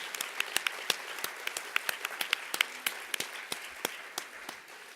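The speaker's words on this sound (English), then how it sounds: "Let's give another round of applause for each of our honorees and program participants tonight." Scattered applause from a gala audience honoring award recipients at a Los Angeles event, with distinct individual claps over a thin wash of clapping, moderately quiet and steady.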